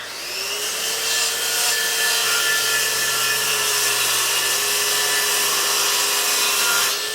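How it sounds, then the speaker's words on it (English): A circular saw spins up with a rising whine that levels into a steady high-pitched tone, then cuts wood with a loud continuous roar lasting several seconds before it eases off near the end. "I'm going to pull the trigger and let the blade spin up to RPM"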